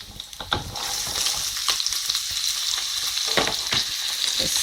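Chopped onion and chilli fry over low to medium heat for chilli paneer, a steady close sizzle with occasional sharper spits and crackles and stirring clatter, and no one speaking.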